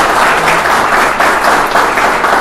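A crowd at a political event in Xanxerê, Santa Catarina, applauds, giving a loud, dense and continuous burst of clapping that fills the whole moment with a faint rolling swell.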